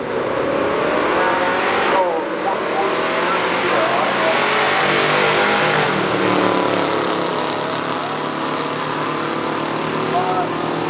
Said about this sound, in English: Mike McGee, 66 Fairlane 390 C6 car, going out up against David Oil.